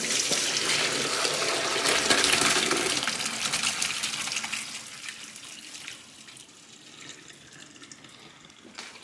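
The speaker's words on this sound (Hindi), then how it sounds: "और अब पानी निकाल देते हैं।" Boiled pasta is drained, with cooking water pouring in a strong gush that tapers to a thinner trickle and splashing over several seconds.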